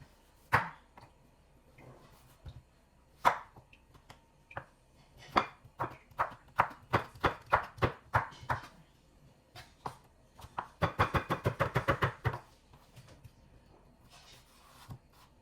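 A knife chops carrots on a cutting board for pancit, starting as scattered single strikes and speeding into a dense, steady run of sharp close taps near the end.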